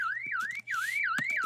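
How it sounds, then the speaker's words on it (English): A MacBook anti-theft app alarm blares a loud, continuous wailing siren that sweeps up and down in pitch, with a brief dip in the middle, over faint background clicks. "set off an alarm"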